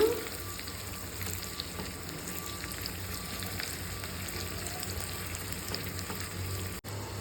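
Steady, close sizzling of hot oil tempering spices in a pan, continuous throughout with faint stirring scrapes and no voices.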